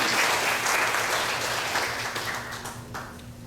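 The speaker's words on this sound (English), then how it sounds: "give all of the singers and musicians here tonight, our sound engineer, everybody, a lovely round of applause." An audience at a Shiva Mandir temple satsang applauding the singers and musicians: full, steady clapping from a crowd, loud at first and gradually thinning, with a faint low hum underneath.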